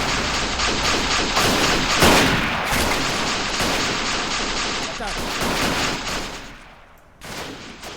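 Gunfire from a Chauchat machine gun in a WW1 trench warfare video game: dense, continuous bursts of rapid shots blend with other battlefield firing, loud and close, easing slightly near the end.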